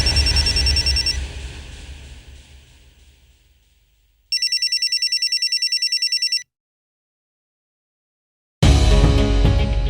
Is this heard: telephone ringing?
yes